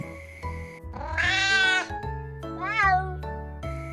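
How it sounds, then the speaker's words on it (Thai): A small cat gives two clear, high meows close up, the second shorter, over a faint low background hum. "แมวน้อยร้องส่งเสียง"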